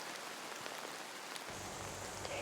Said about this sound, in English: Heavy rains have been lashing the area for the past few days